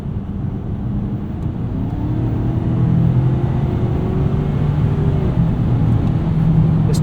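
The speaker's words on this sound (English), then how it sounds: "This 2-liter has kind of a gruff industrial feel to it." A 2023 Ford Maverick XLT Tremor's 2-liter engine hums from inside the cabin while driving, with a low, rising drone as it accelerates, and steady road noise underneath.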